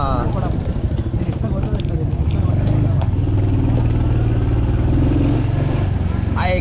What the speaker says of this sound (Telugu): అదే క్రేజీ ఉంది ఎగ్జాస్ట్. అది చూడ అసలు ఎట్లా వస్తుందో, మస్తు వస్తుంది సౌండ్.